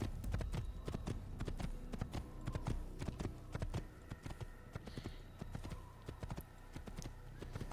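Horse hooves clip-clop in a rapid, continuous rhythm in an Assassin's Creed game, fairly close and steady throughout, with a faint whinny partway through and no talk.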